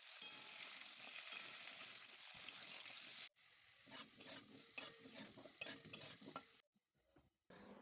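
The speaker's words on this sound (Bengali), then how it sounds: "কেটে রাখা আলু ভেজে নেব লাল করে।" Cut potato pieces frying in hot oil until browned, a steady close sizzle with stirring scrapes, broken by a short pause, then bursts of frying and clinks before the sound drops away near the end.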